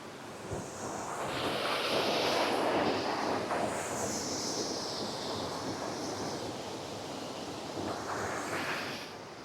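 The Aira Force waterfall roars with steady rushing water, a broad constant wash that stays loud and close throughout.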